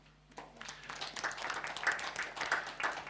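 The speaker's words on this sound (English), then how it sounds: "Let's welcome him with a round of applause." An audience at a leadership talk gives a speaker a round of applause, heard as a faint, steady patter of clapping from some distance in a large room.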